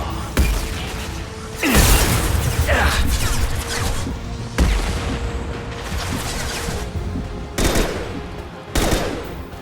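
Gunfire in Mass Effect Legendary Edition: sharp, loud shots and bursts that hit near 0.4, 1.7, 4.6, 8.6 and 9.3 seconds, each decaying over a steady rumble of battle noise, with no voices.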